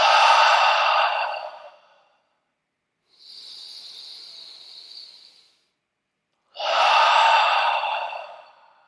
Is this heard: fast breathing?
yes